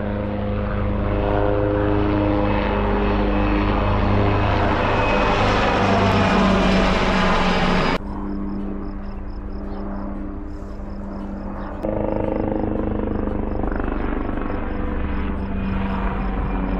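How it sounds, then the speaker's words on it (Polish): An SW-4 helicopter takes off at an air show, its engine and rotor making a loud, continuous roar with rising whine, the noise dipping briefly mid-way before surging back, heard alone without talk. "No i aktualnie wystartował śmigłowiec SW-4."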